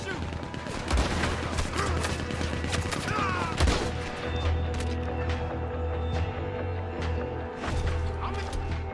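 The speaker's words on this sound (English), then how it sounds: "He's going for the Gatling. Look out, he's firing. Hell, that gun can shoot." Rapid Gatling gun fire in Red Dead Redemption 2, a dense crackling barrage of shots running throughout over a steady low hum, with a voice talking underneath.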